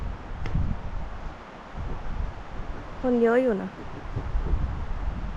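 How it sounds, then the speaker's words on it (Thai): Strong wind sweeps over a mountain trail on Phu Kradueng in Thailand, a steady rushing roar that buffets the microphone throughout while people talk nearby. "ได้ยินเสียงลมปะ ลมแรง"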